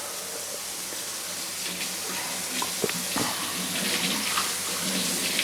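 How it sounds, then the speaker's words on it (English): Water running at a sink during dishwashing, a steady close hiss and splash with a few clinks of dishes, fairly loud and with no voices. "You doing dishes during our video?"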